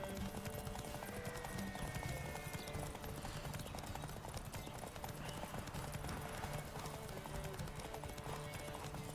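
Rhythmic hoof clip-clop from Roach, Geralt's horse in The Witcher 3: Wild Hunt, runs steadily throughout at a quick gallop, layered over dense game music and ambience, with a faint whinny and a little talk underneath.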